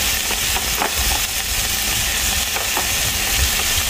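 Bitter melon fries in a hot pan, giving a steady, close crackling sizzle with small pops and occasional stirring scrapes throughout.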